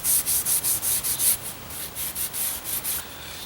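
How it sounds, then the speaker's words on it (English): Rapid back-and-forth scrubbing of loose rust off an old, vinegar-soaked knife, a steady rhythm of short rasping strokes, close and alone with no talk. "so we're just gonna scrub this up like really quick, and see if we can't get any other loose rust off of it."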